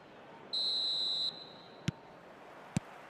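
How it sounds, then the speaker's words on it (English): A referee's whistle in eFootball PES starting the second half: one sustained shrill blast of under a second, followed by two short sharp clicks, alone against quiet crowd ambience. "Whistle goes, and we start the second half."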